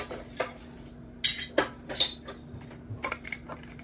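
Dishes and cutlery clink and clatter while a kitchen is cleaned up during pancake making, with a handful of sharp, close metallic and ceramic knocks spaced irregularly over a low steady hum.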